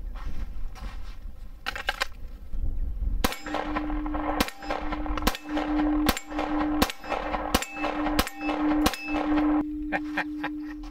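A 1911 pistol fires about nine sharp, loud shots at an irregular steady pace outdoors, each followed by a ringing metallic clang from a steel target.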